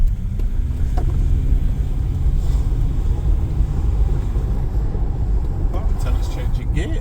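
A 2008 Land Rover Discovery 3 with about 150,000 on the clock drives along with a low, steady engine rumble and road noise from inside the cabin, and people talk over it.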